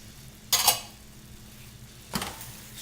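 A spoon scrapes through mushroom and pancetta risotto as a mix of Parmigiano, Asiago and Gorgonzola is stirred in, two short close bursts of scraping and clinking against the pan separated by a quiet pause.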